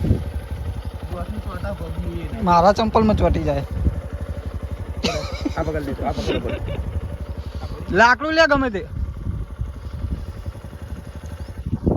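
A motorcycle engine rumbles low and steady throughout as the bike sits stuck in sticky, clay-like mud in a guava orchard, while people talk loudly over it.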